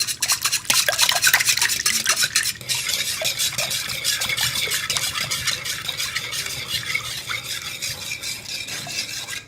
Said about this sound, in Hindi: अंडे को भी जो है वो अच्छी तरह से दही में बीट कर लें